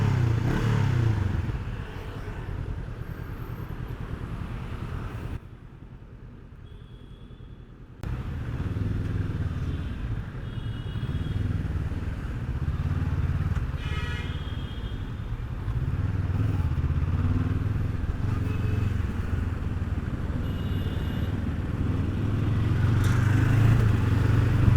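A Honda NX500 motorcycle engine drones steadily while riding, a low rumbling exhaust note with wind noise, briefly dropping out before resuming and swelling slightly toward the end.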